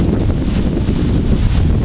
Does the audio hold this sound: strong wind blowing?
yes